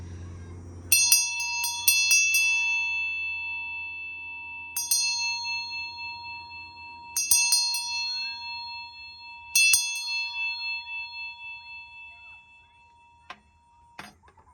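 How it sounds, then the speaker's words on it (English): A small bell rings several times to cleanse the space, each clear, bright strike followed by a long, slowly fading ring, with gaps between clusters of strokes. "I'm going to ring the bell to cleanse the space for everyone as we finish up"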